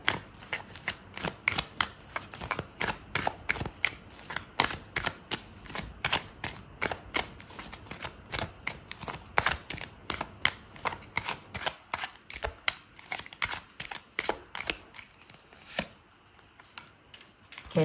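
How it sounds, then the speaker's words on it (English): Tarot cards being shuffled and drawn in a reading: a long run of crisp, rapid riffling card snaps, close and fairly loud, with short pauses between bursts and no talking. "Okay, so I'm gonna pull out another card for you"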